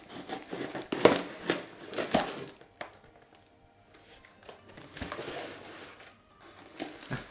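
A sharp tool cuts through material for a handmade Chinese Xiaowu wind instrument, with several crunchy, crinkling snips and scrapes close up and bursts of rustling between them, no talk.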